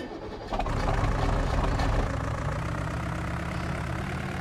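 A tractor engine idling in Farming Simulator 19, a steady deep rumble that swells slightly at the start and then holds an even, continuous drone throughout, with no voices over it.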